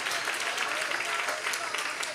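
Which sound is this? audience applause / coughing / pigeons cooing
audience applause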